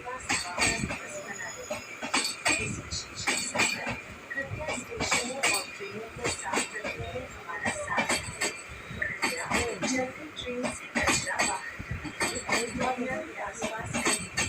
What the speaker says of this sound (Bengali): ট্রেনটা পাস হতে প্রায় 1 মিনিটের